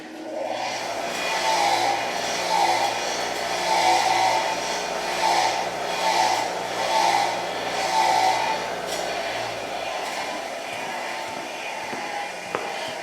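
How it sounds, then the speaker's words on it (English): A bench-mounted wire wheel whirs steadily while cleaning the shoulder of a kickstand part from a 2022 Kawasaki KLR 650, with pulsing grinding swells as the metal is pressed in, then spinning down near the end. "I'm actually going to clean that shoulder off the wire wheel here"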